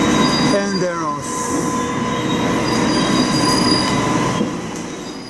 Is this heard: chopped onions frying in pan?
no